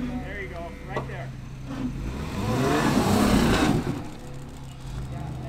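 An off-road vehicle engine revs hard on a rock trail in Pritchett Canyon, rising to a loud, close roar in the middle, with people talking over it.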